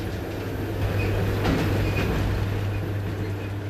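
A Trans-Siberian train runs steadily on its rails in a continuous low rumble with a faint rhythmic clatter, heard close and from inside, with no talking.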